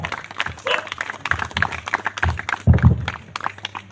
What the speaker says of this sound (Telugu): అందరు గట్టిగా చప్పట్లు కొట్టి ఈ యొక్క అవకాశాన్ని సార్ గారికి ఇద్దాం.